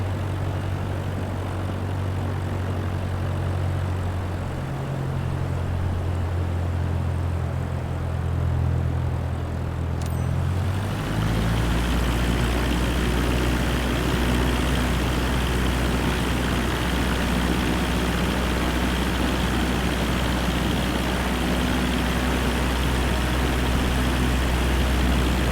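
A propeller aircraft engine in the video game Microsoft Flight Simulator 2024, droning steadily, then shifting pitch partway through as the throttle changes and settling into a constant engine tone, loud and close with no talk.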